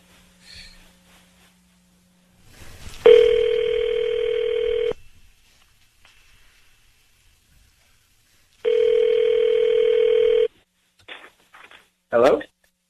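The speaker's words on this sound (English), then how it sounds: "Okay, let's dial." A telephone call is placed, and two long, steady ringback tones sound on the line, separated by a pause, with brief rustles and a breathy noise around them.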